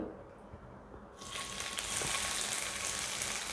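Whole spices of bay leaf, cinnamon, cardamom and cloves dropped into hot oil, bursting into a loud, steady sizzle after a quiet start and holding close and unbroken with no voices.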